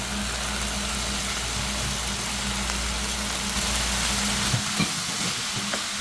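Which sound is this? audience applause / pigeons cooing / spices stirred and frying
spices stirred and frying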